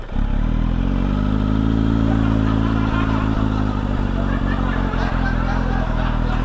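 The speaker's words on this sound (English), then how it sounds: "slip-on exhaust that SC Project has." A Kawasaki Z900 motorcycle with an SC Project slip-on exhaust idles loud and steady with a deep throbbing rumble, a few light clatters over it, no clear sharp revs.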